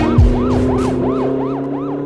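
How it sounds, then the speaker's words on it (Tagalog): A police car siren wails loudly and close by in a steady rising-and-falling cycle, repeating about three times a second over a continuous engine drone, with a brief low thump near the start. "Tuan na mga pulis, Reynaldo."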